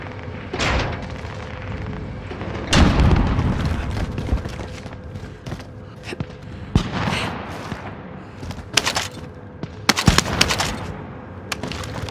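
Gunfire in a tactical shooter video game, with scattered sharp shots and short bursts ringing out over a steady low rumble of background game noise, with no voices.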